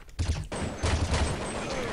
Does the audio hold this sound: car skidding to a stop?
no